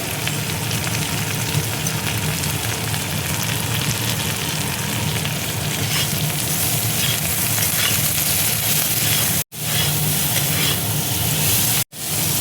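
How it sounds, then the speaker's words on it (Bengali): Prawn heads fry with salt in a pan, giving a loud, continuous sizzle with faint stirring scrapes throughout, with two brief cuts near the end and no talk. "এবার আমি চিংড়ি মাছের মাথাগুলো দেখো দিয়ে দিচ্ছি"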